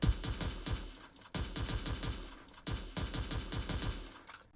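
Bursts of rapid gunfire in the Free Fire battle royale game, three dense volleys of quick repeated shots separated by brief gaps, loud and close with no talking.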